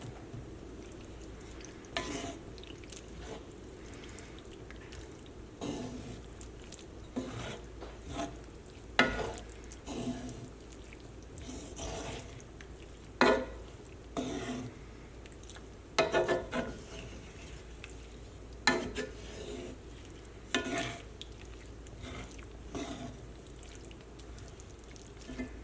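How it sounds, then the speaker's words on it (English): A spoon stirs a mushroom and lentil ragù in a pan with soft intermittent scrapes and faint sizzling, quiet and close, with no talking. "I'm going to mix everything together."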